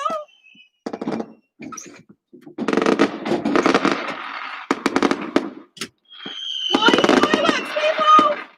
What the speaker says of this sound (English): Fireworks, people! Outside my home.